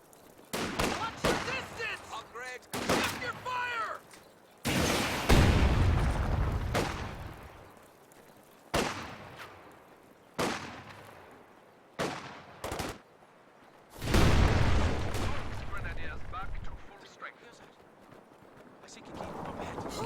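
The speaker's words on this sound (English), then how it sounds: "VonAsten's going to counter with a pack howitzer to bombard from range" Pack howitzer bombardment in a real-time strategy game match, heavy booming blasts and bursts of gunfire recurring irregularly, loud and close, with a commentator talking between and over the explosions.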